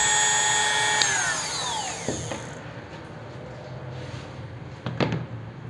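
A Ryu RDG 3.2 mini die grinder whines at a high pitch close up, then the tone slides down and fades as it spins down, followed by a few faint clicks and knocks.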